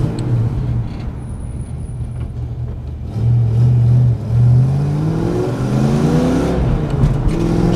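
Ford Fox body Mustang engine revving up through the gears while driving, climbing in pitch with a brief drop at a shift around 4,000 RPM, loud and close with a droning rumble.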